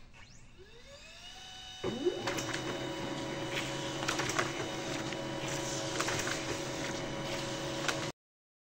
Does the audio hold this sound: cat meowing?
no